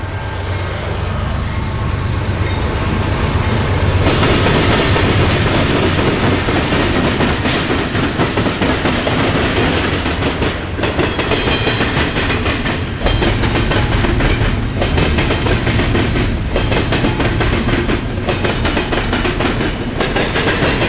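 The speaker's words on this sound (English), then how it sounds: "Next, we catch another northbound CN train." A northbound CN freight train passes trackside, its loud, steady rumble of engine and rolling cars filling the scene with rhythmic clickety-clack wheel beats over the rail joints throughout.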